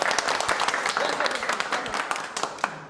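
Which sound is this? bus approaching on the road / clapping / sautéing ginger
clapping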